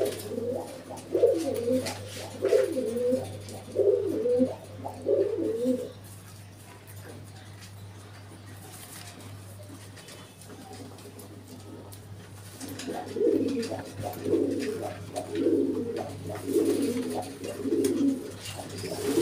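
Pigeons in a hash pigeon loft coo in two clear bursts of repeated low throaty calls, close by, with a quieter lull in between over a steady low hum.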